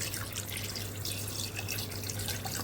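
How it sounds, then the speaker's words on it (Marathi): Steady rushing pour of water into a pressure cooker, continuous and fairly loud throughout, with no voices. "पाणी टाकते"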